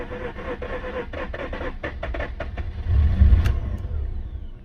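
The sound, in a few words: long-stood project car engine cranking and trying to start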